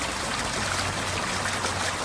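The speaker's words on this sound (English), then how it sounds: "You can see the way the water's splashing." Water splashes steadily onto a pond liner basin set in a bermed outdoor installation, a continuous close rushing and trickling wash with no pauses.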